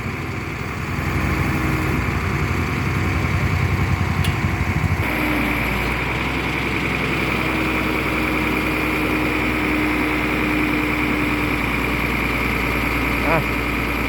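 An antique engine idles steadily at a Kanchanaburi vintage machinery show, a continuous low mechanical drone with a faint rhythmic chug that holds steady throughout, with crowd murmur in the background.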